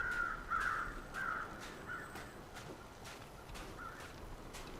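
Crows in The Long Dark video game cawing repeatedly in short bursts at moderate distance over a quiet outdoor ambience, with faint crunching steps between calls.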